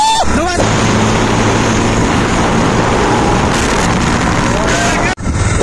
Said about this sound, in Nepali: मैले बाइक लग्दैछु यहाँ चाहिँ स्पिडमा